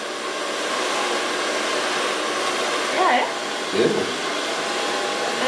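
A hair dryer blow-drying a short pixie haircut, a loud steady whooshing roar close by throughout, with brief changes in tone as the airflow shifts, and a short spoken word at one point.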